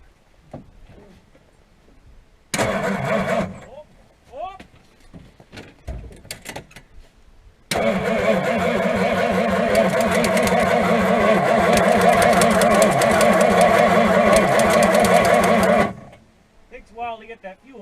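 An old car engine, heard during a Gambler 500 off-road event, cranks in short bursts, falls silent between attempts, then catches and runs at a steady rough idle for about eight seconds before shutting off, with people talking around it.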